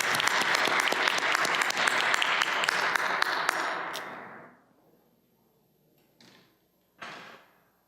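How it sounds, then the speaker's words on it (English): Loud, dense applause for honorees at a school advisory board meeting fills the first four seconds, then fades into near silence, broken by two brief clattering knocks. "Could we give all of our honorees a great round of applause"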